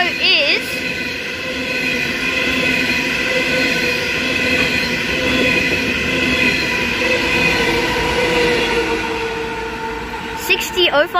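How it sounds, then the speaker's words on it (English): A very long freight train passes the station at Heathcote, giving a steady loud rolling rumble with squealing wheel tones throughout and brief bursts near the end. "That was a very long freight train."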